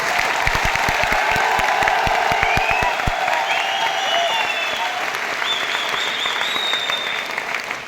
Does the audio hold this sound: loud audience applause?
yes